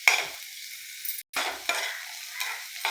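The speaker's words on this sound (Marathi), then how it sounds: "कांदा पण आपल्याला आता थोडासा भाजलेला असं वाटत आहे बघा." Chopped onion sizzles and fries in a pan for sugar-diet upma, with steady crackle broken by stirring scrapes and a brief pause near the middle, close and fairly quiet, no talk.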